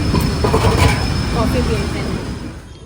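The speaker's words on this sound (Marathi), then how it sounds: "सात वाजून चाळीस मिनिटांनी ट्रेन आली आहे अजून प्लॅटफॉर्मला नाही आली" A train pulling into a station in Thane, with a steady rumble of wheels and rail noise and a faint squeal, heard close and fairly loud throughout while a voice speaks softly in the background.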